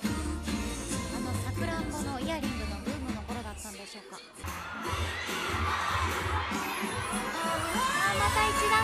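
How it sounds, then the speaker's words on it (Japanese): A crowd at a shopping-mall anniversary party fashion show erupts in loud cheering and high-pitched shouts, building after a brief lull, with a presenter talking over the noise. "また一段と高い歓声が上がりました"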